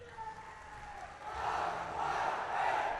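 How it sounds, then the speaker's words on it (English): A massive crowd at an evening schools rugby final between Isipathana College and Trinity College, a distant roaring swell of cheering and chanting that rises and grows louder partway through, broad and continuous. "Massive crowd here this evening"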